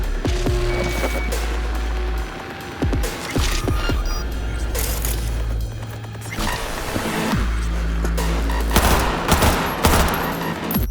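Cyberpunk 2077 gunfight: sustained rapid automatic gunfire with crashing impacts over a heavy low rumble, loud and continuous, with short pauses between bursts.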